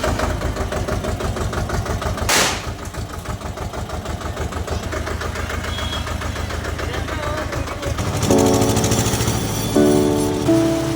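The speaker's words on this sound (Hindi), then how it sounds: "चलता हूँ ट्रैक्टर लेके, अपना ट्रैक्टर।" A farm tractor's diesel engine chugs steadily and loud up close, with a rhythmic knocking pulse, then the tone shifts near the end as the engine revs and other noise joins in.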